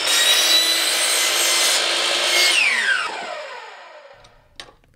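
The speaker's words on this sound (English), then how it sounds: "you're gonna take this 4-inch PVC pipe and you're gonna cut 3/4 inch slices off of it" A hand saw cutting through 4-inch PVC pipe: loud, close, continuous rasping strokes for about three seconds, then fading as the cut finishes, followed by a brief clatter and quiet.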